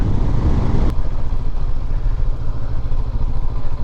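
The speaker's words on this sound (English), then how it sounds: "I'm in fourth and it's chugging along in fourth" A Honda CB500X motorcycle engine chugs steadily in fourth gear while riding, a loud, continuous low rumble with wind and road noise, after a brief clatter at the start.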